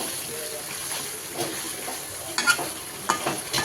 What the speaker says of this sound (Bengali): এটাকে এখন খুব ভালোভাবে কষিয়ে নিব